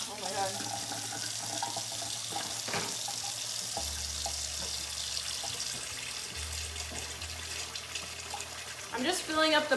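Water runs from a kitchen tap during Christmas cookie baking, a steady hiss through most of the stretch with a low hum beneath and clinks near the end.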